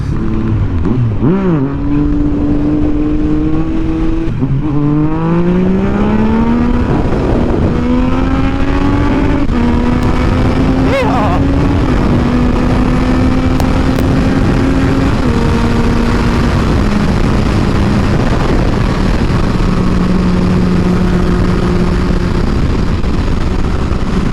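A car drives on a public road on still-cold tires, its engine loud and close, revving up and down through shifting pitches for the whole stretch, with no talking.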